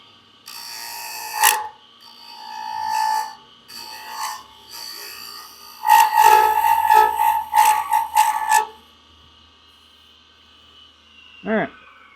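Small scraper working a wooden Easter egg spinning on a lathe, giving bursts of raspy scraping with short pauses between passes, close and fairly loud, then fading to quiet.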